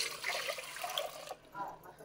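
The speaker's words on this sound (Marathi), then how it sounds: "मी हे पाणी आता ह्या पातेल्यात घालते" Water poured into a thick-bottomed cooking pot in a home kitchen, a steady splashing gush that runs for over a second and then tapers into softer trickles, close and fairly quiet.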